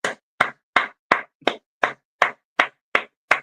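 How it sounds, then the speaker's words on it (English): A radio host claps his hands ten times, each a sharp, close, dry smack at an even, unhurried pace with clean silence between, and no other sound. "I'm clapping again."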